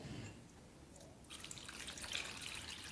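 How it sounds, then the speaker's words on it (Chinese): Water pours from about a second in onto cut pork pieces, fatty and lean, in a home cooking pot, making a steady splashing trickle that fills the rest of the clip with no talk. "把这个切好的肉呢倒到锅里头，然后呢那个加水"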